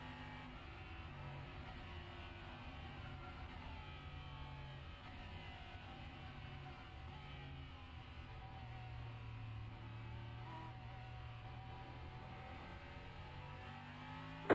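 Sim race cars of the LMP3 class in the iRacing game, engines droning and revving steadily throughout with cars passing, a continuous loud engine bed with no pauses.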